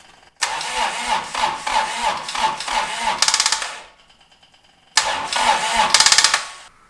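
Toro Reelmaster 3100D diesel reel mower engine cranking hard in two long bursts with a pause between, the starter churning rhythmically and loudly without the engine catching.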